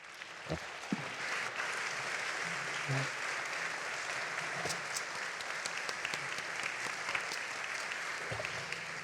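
An audience at a talk on a son held hostage in Gaza applauds as Jonathan Dekel-Chen and Gillian Kay are welcomed, a steady dense clapping sustained throughout at moderate distance.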